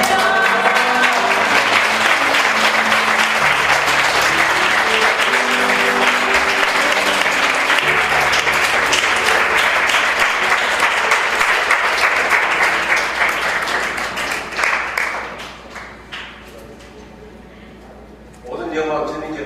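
Loud, sustained applause from a standing church congregation welcoming a university president at a doctoral-degree thanksgiving service, dense clapping that carries on strongly for about fifteen seconds before thinning into scattered claps and fading.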